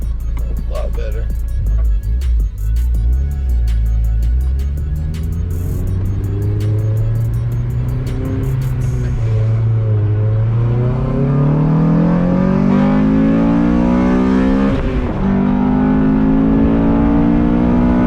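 A Honda Civic FG2 with a K24 engine and a freshly installed header pulls away close and loud, its exhaust note climbing steadily in pitch through sustained revs with a brief shift dip, after a light rapid ticking at the start.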